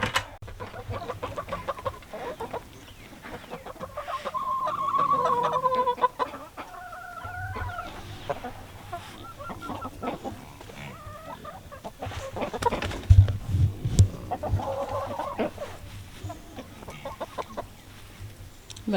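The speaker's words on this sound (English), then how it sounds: "we have about 50 chickens in that area" Roughly fifty chickens in a farm enclosure cluck and chatter steadily at close range, several birds overlapping with rising squawks and calls throughout, no talking.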